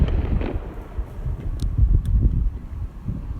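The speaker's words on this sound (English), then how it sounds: "it's really windy." Gusty wind buffets a microphone on a rooftop at night, a low rumbling roar rising and falling, with a couple of faint sharp ticks in between.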